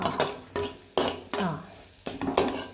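A spoon scrapes and clatters through fried rice seasoned with biryani masala in a pan, several rhythmic stirring strokes with metallic knocks over a light sizzle.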